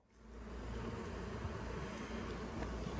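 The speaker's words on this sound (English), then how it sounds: "there's a big clump of bees" A dense clump of honey bees in a chimney hums steadily, a continuous buzzing drone with no voices, fairly quiet overall.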